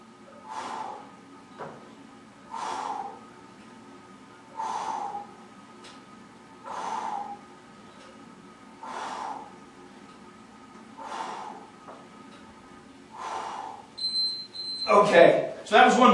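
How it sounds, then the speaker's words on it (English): Forceful exhales during a biceps curl workout, about eight sharp breaths evenly spaced roughly every two seconds, close and clear, with a louder burst of noise at the very end. "As you can see, exhale as I drive up."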